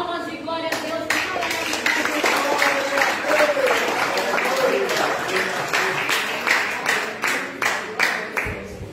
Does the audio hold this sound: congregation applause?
yes